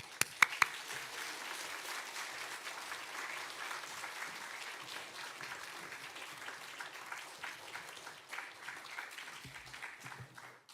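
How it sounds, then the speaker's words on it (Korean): A church congregation applauds and cheers to welcome a pastor to the pulpit, sustained clapping that starts with a few sharp claps, holds steady and fades toward the end. "우리 큰 박수와 함성으로 목사님 맞이하겠습니다"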